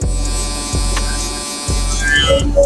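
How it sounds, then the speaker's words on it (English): Electric hair clippers buzzing steadily up close while fading a mid taper haircut, the motor hum shifting briefly as the blade moves through the hair, alone without talk. "Now you want to go down 1 notch and hit it just like you did in the beginning"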